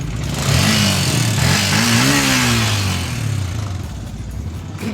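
A Yamaha Sniper 150 motorcycle engine runs loudly close by, revving up and down over a rough, noisy mechanical ticking clatter.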